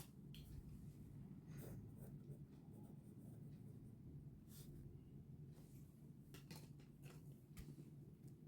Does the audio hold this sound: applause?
no